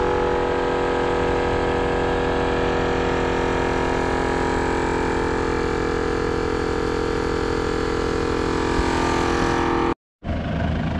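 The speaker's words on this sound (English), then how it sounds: "Now we're just pumping the tyres back up." A steady, loud mechanical drone of an air compressor runs continuously while pumping 4x4 tyres back up after a day of four-wheel driving, cutting out abruptly near the end before resuming briefly.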